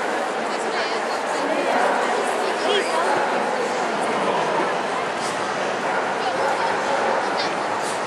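Dogs at a junior qualifier dog show, among them a Pyrenean, a Dalmatian, a Newfoundland and a Labrador, yip, whimper and bark amid a steady hall crowd chatter, with people talking throughout.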